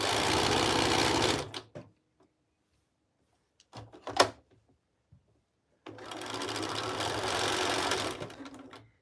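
A sewing machine runs in fast, dense bursts, stops for a few seconds with some clicks and knocks of handling, then starts again and stitches steadily at close range.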